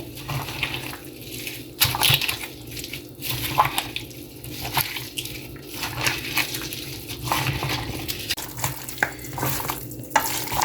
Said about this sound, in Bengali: সব কিছু দেওয়ার পরে আমি দিয়ে দিচ্ছি 1 কাপ তেল। সব কিছু ভালোভাবে মেখে নেব।